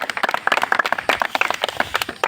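Scattered applause from an audience at an outdoor political or organizational gathering, a short burst of many overlapping claps, moderately loud, with no talk.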